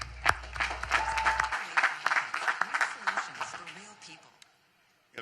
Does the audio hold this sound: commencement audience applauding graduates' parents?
yes